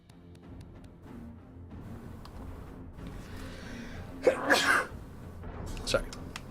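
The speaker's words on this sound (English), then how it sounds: "I don't know why I'm sneezing so much." A person sneezes indoors in a dusty room, with one loud sneeze burst and then a smaller second one, close to the microphone over low background noise.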